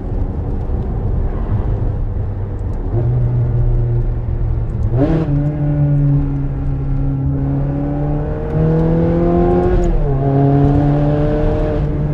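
A Ferrari 360 Challenge Stradale's engine revs through rising, steady tones at low speed, shifting pitch in several clear steps with a loud, close, continuous drone and no talking.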